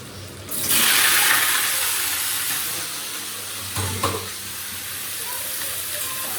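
Boiled jackfruit dropped into a little hot oil and frying, a loud burst of sizzle and hiss that settles into a steady frying crackle with a clatter of utensils midway.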